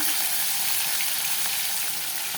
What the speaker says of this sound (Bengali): চিংড়ি মাছটা ভাজা বসাই দিলাম